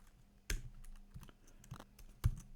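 Sparse bursts of computer keyboard keystrokes while typing code, a few sharp clicks with short pauses between, close and quiet, with no talking.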